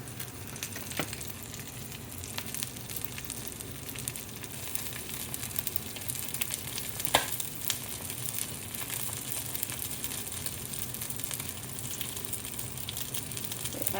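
Gluten-free crab and shrimp cakes fry in a pan with a little oil, giving a steady, moderately quiet sizzle and crackle that continues throughout, with occasional soft pops and scraping sounds.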